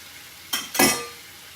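Red onion drops into a skillet of chicken with a brief burst of loud, close sizzling that quickly fades, heard alone without talk.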